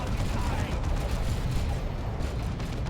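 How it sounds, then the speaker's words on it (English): Dense, continuous barrage of plasma cannon fire and battle noise in the Warhammer 40,000 strategy game Dawn of War 2: Retribution, loud and unbroken throughout, with a commentator talking over the combat. "Plasma cannon getting shots off."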